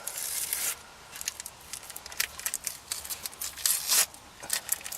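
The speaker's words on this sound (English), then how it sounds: "Put 2 pieces of tape to peel the backing film off." Tape tugs and rubs at the shiny backing film on a 2009 Mini Clubman sunroof shade, a series of close crisp crinkling and scratchy peeling bursts in an irregular rhythm, alone without talk.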